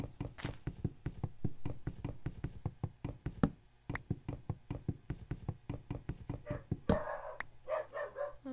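A dog barks in short, sharp bursts, a rapid repeated run of yaps and knocks heard close at moderate level, with a brief rustle near the end.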